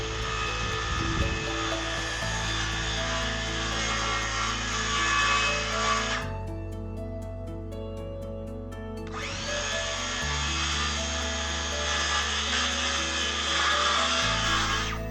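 A power tool cuts out a wooden backboard with a loud, steady high-pitched whine. It runs for about six seconds, pauses for a few, then starts up again and holds at close range.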